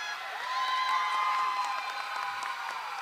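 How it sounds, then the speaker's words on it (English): Crowd cheering and whooping at a Philly roller derby bout between Brawl Stars and Nor'East Uprising, a steady roar of voices with high shouts rising and holding, heard from amid the stands. "The crowd going wild for Mayhem."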